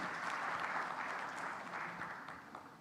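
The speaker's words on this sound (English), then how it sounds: "So a round of applause, Mr. Har." An audience at an economic summit seminar applauds steadily, a dense patter of clapping that slowly tapers off.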